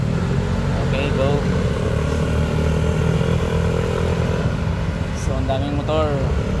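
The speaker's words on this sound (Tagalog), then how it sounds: "ang daming motor" Heavy street traffic in Shulin, New Taipei, heard from a bicycle, with a steady loud drone of many motorcycle engines close by and occasional horn-like tones.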